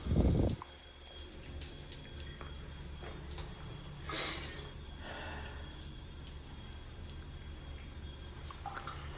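Tap water runs steadily into a sink, a continuous close splashing hiss with a brief louder burst at the start and occasional drips.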